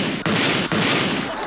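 Gunshot sound effect in a Vietnamese comedy sketch: a loud, dense burst of gunfire with two sharp cracks, harsh and close, filling the whole moment with no talking over it.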